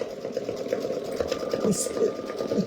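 A Brother V5 embroidery machine hums and stitches with a steady, soft rhythmic whir, close by and moderately loud, while a person talks over it.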